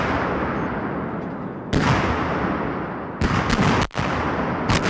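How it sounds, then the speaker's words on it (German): Belgian and German artillery guns fire in sharp, booming reports, three or four heavy blasts spaced unevenly, each followed by a long rumbling echo that rolls across open ground. "Norwegische und deutsche Artilleriebeobachter lenken gemeinsam das Feuer von belgischen und deutschen Kanonen auf Stellungen des Gegners."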